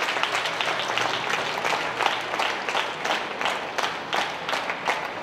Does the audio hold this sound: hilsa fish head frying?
no